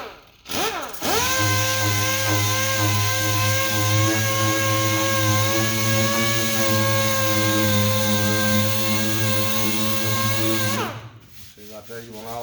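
A DA sander runs steadily on a car body panel during dent repair, a loud sustained whine with a low hum, starting abruptly and cutting off near the end.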